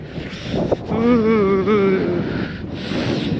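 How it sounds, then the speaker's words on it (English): Strong, cold wind buffets the microphone in a constant roar while inshore sturgeon fishing, with a voice briefly heard underneath. "it is super windy and cold"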